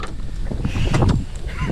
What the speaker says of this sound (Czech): ten vítr je drsný